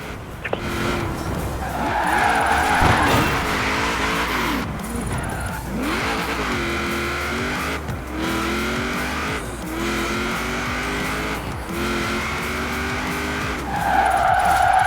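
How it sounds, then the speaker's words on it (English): Tires screech and squeal through repeated drifts of a car in Forza Horizon 4, the engine droning steadily beneath long wavering slides that swell and ease over and over, loud and close throughout. "Now let's really shred those tires."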